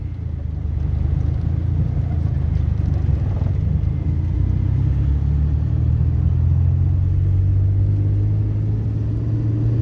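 A car pulls away during a driving lesson, its engine a steady low hum that swells slightly as it moves off, with no talking.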